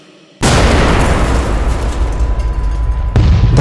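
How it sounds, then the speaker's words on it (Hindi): A loud, sudden explosion sound effect in a Hindi audio story bursts in after a brief quiet start, then roars and rumbles on with a second heavy impact near the end. "धमाका इतना जोरदार था"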